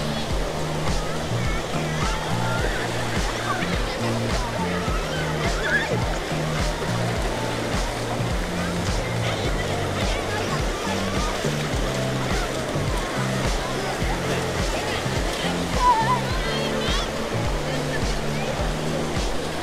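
Surf rolls steadily onto a crowded morning beach at Vung Tau, a continuous wash of breaking waves close by, with a low rhythmic thumping underneath throughout.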